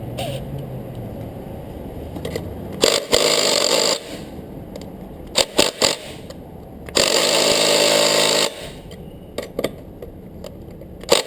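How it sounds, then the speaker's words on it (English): Impact wrench removing the front variator pulley nut on a Honda Ruckus scooter, loud sustained hammering bursts of about a second each with short rattling taps between them, close up and without talk. "You will need an impact wrench to get this off."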